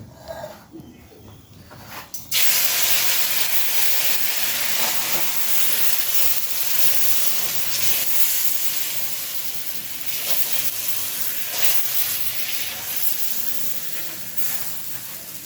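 A rice-flour roti lands on a hot tawa and sets off a loud, steady steamy hiss that begins suddenly and holds for the rest of the stretch, slowly easing a little, with no talking.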